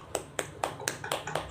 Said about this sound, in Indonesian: Tepuk tangan dulu buat Erina,